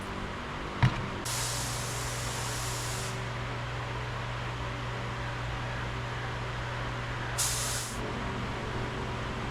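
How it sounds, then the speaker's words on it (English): A spray gun lays epoxy onto taillight panel parts in two bursts, a long hiss then a shorter one, over a steady background hum and a sharp knock just before the first burst. "Now it's time for cleaning and prepping to spray these down with some epoxy."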